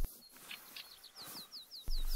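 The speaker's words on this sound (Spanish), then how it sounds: "Vale, escucho pájaros y tal." Birds chirp in the video game theHunter: Call of the Wild in a quick series of short, bright tweets against a soft ambient hiss, ending with a sudden louder low hum.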